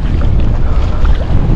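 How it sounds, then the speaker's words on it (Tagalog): Strong wind buffets the microphone at a shoreline, a steady low roar with rushing air and water texture underneath, loud and continuous with no pauses. "Grabe, lakas ang hangin."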